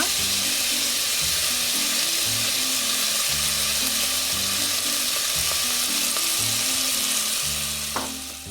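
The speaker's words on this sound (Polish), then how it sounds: "W tym garnku, teraz w tym garnku ląduje cebula" Steady, loud sizzling of onion frying in hot oil in a pot, a continuous crackling hiss with a low background hum, no voices.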